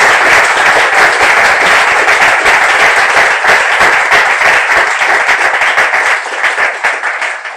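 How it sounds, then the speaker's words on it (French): A studio audience at a French talk-show event bursts into loud, dense applause: steady broadband clapping from many hands that fills the whole stretch and thins slightly toward the end. "Est-ce qu'on peut applaudir pour elles, s'il vous plaît?"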